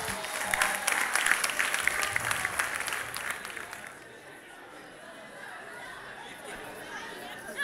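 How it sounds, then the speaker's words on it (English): A group applauds the male surfers at a youth talk, lively close clapping mixed with chatter that fades after a few seconds into quieter room murmur and talk. "Round of applause for our male surfers."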